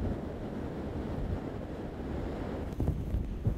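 Ocean waves surge and break against a rocky shore during a lure fishing trip for sea bass off an island, with a steady roar of surf and wind buffeting the microphone, swelling slightly toward the end.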